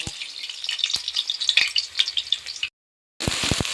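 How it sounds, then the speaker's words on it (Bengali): Potatoes frying in hot oil, a close, crackling sizzle with popping bursts that runs for a few seconds, drops out briefly, then returns loud. "তেলটা অলমোস্ট গরম হয়ে গেছে, আর অল্প অল্প করে আমি আলুগুলো দিয়ে দেবো"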